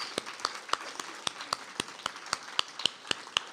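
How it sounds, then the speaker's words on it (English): Scattered, sparse clapping from a small audience after a poetry reading, individual claps distinct and irregular, fairly close, fading quickly. "Can we have another round of applause"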